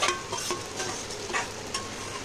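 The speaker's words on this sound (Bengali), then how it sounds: "এবার দিয়ে দেবো এই চিংড়ি মাছগুলো" Prawns tipped into a pan of fried-down masala for an ol (elephant foot yam) and prawn curry, giving a steady close sizzle with a few scraping stirs on top and no talk.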